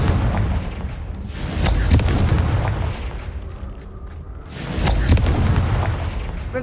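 The Confringo fire spell in a video game sets off booming explosions, two heavy rumbling blasts a few seconds apart that fade slowly between them.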